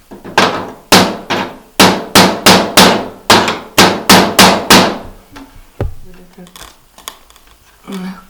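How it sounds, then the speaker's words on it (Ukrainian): A run of sharp hammer blows while working to open the windows of an abandoned house, about a dozen in steady rhythm, loud and close, then a few scattered knocks with a voice briefly heard. "Треба брати якийсь молоток."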